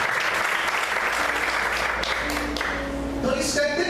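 A church congregation claps loudly and continuously while voices call out over the noise, and sustained keyboard-like tones rise toward the end.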